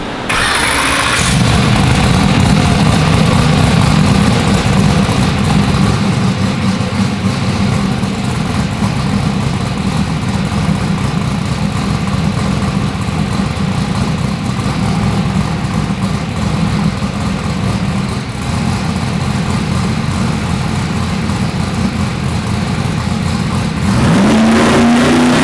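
A car engine on a dyno fires up and settles into a loud, steady idle and sustained running for most of the run, then rises sharply in pitch as it revs near the end; no talking.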